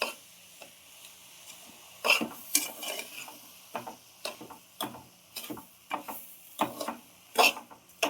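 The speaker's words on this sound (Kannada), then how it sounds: "ಹಾಲು ಹಾಕಿ ಇವಾಗ ಮಿಕ್ಸ್ ಮಾಡ್ತಾ ಬರೋಣ" A spoon scrapes and taps against a pan while rava laddu mixture is stirred after milk is poured in, giving irregular close clinks and scrapes of varying loudness with no talking.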